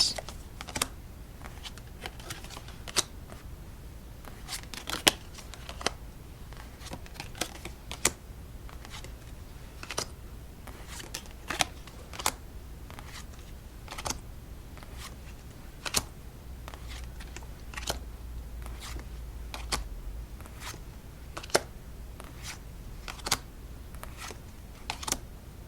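Playing cards from a popcorn-themed deck are stacked during a quiet solitaire session, with soft, scattered taps and light clicks of card edges in an otherwise hushed room, with no talking.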